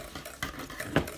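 A spoon stirring thick pudding in a bowl for an alligator pie, a few soft close wet swishes and scrapes over about a second.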